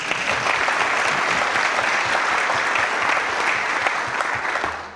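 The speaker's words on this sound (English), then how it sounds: "Let's give them a round of applause." Steady, dense applause fills a city council meeting chamber, loud and continuous for about five seconds before tapering off at the end, with no talking over it.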